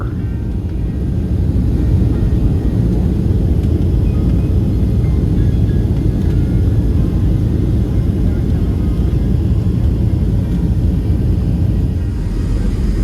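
Inside a Southwest Airlines airliner cabin during the final descent into Austin on a flight from Chicago, a loud, steady, deep engine rumble and roar fills the whole stretch without letting up.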